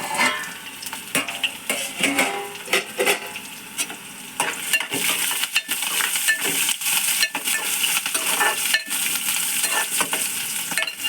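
Chopped onions fry in a pan for a simple carrot curry, with a constant sizzle and frequent scraping stir strokes against the pan, no talking.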